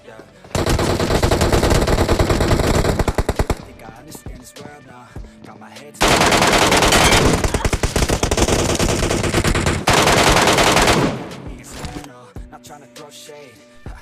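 Loud automatic gunfire in BGMI on the Livik map comes in long sustained bursts, with quieter gaps and scattered single shots between them, ending in a fading tail.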